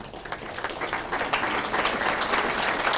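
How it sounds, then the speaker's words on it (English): Audience at a Norden Club reception for the King of Sweden breaks into applause, a dense, even patter of many hands clapping indoors with no voices over it. "Please hold your applause."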